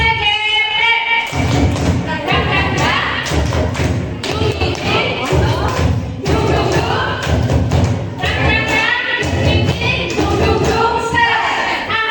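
A group of teachers claps in a rhythmic patterned beat, loud and close, repeated in bursts while voices call along throughout.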